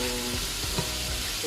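Meat fries in a pan for a set meal, a close, steady sizzle broken by a few soft stirring scrapes.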